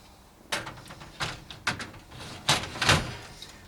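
A Neff Slide&Hide oven door slides and knocks down in several bumps and clunks, with a scraping rattle and a final heavier thud near the end.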